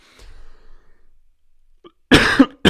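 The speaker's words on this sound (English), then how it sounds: "I probably should have coughed away from the mic" A single loud, sharp cough rings out close to the microphone after a stretch of near silence with faint background rustling.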